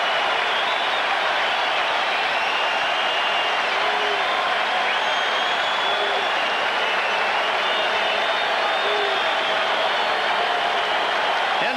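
Fenway Park crowd during the 1986 World Series, Mets at Red Sox, a loud continuous roar of cheering and clapping that fills the whole stretch, dense and steady, with faint shouts rising from the mass of voices.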